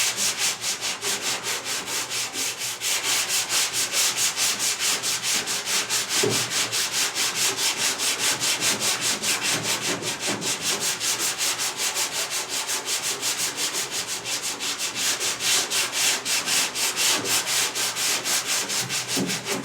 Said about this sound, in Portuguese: Então eu vou lixar um pouquinho aqui para vocês verem, só vai ter o barulho da lixa aí